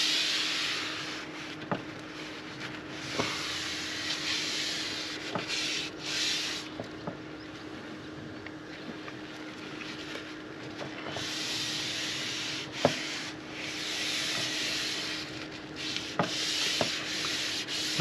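A greasy, mucky surface being scrubbed up and down in steady, rasping strokes, close and continuous with brief pauses and a few knocks.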